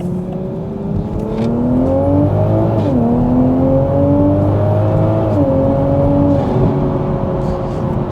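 A Toyota GR Supra with a titanium exhaust gives a sustained rev, loud and close, holding steady engine pitch for several seconds with a couple of small dips before settling back, the drone continuous throughout.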